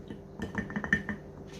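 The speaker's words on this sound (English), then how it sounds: "I am going to start sifting my flours here." Garbanzo bean flour sifted into a bowl for quinoa bread, a handful of light metallic clinks and taps in an uneven rhythm, close and fairly quiet.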